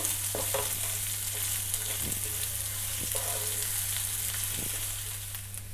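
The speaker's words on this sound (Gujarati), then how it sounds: "ઝીણી કાપેલી ડુંગળી એડ કરીશું। તો મેં અહીંયા 1 ડુંગળીને આ રીતે ઝીણી સમારી લીધી છે। ડુંગળીને સોફ્ટ થવા દઈશું।" Finely chopped onion frying in a pan until soft, a loud continuous sizzle with a few soft stirring knocks, no voices.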